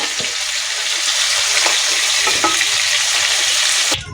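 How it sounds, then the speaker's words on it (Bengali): Cauliflower pieces salted and coloured with turmeric sizzle steadily in hot oil, a dense continuous frying hiss with a few soft stirring knocks, cutting off abruptly near the end. "আমি ফুলকপিটা একটু নুন হলুদ দিয়ে লাল লাল করে ভেজে নিচ্ছি"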